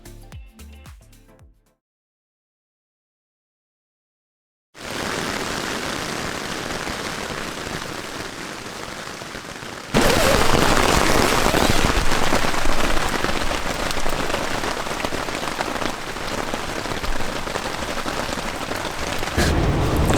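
Heavy rain falls during a mountain bike enduro race in New Zealand, a dense steady roar of drops on surfaces that starts after a brief silence and grows louder and closer midway, continuing unbroken.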